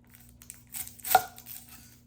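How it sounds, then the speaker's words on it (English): A small onion is rubbed against a grater in a few quiet, short scraping strokes, the strongest one landing near the middle, with near silence between them. "The first thing I'm going to do for this second barbecue sauce recipe is grate up some onion."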